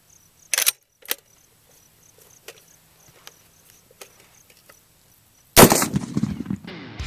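.50 BMG rifle firing a spotter tracer round outdoors, heard as a sharp crack early on, then quiet clicks and insect-like chirps, and finally a very loud, close blast with a rumbling, ringing decay.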